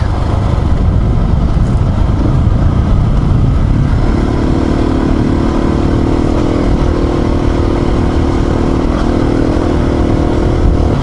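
A motorcycle riding along a freshly graded dirt track through a small forest, its engine droning loud and steady throughout, with a sustained tone rising partway in and wind rumble underneath.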